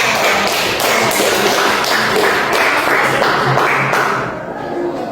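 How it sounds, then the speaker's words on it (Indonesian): A crowd claps, a dense, loud patter of many hands that holds steady for several seconds and then fades slightly at the end. "beri tepuk tangan dulu"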